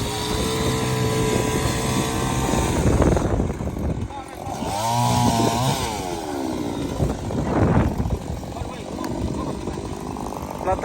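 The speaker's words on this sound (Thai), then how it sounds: "เอาใครจ้างช่างมาตัดไม้ให้พี่น้อง" A chainsaw hired to cut down trees on a very windy day drones steadily and fairly close, its engine pitch rising and falling as it bites into the wood, while people talk over it throughout.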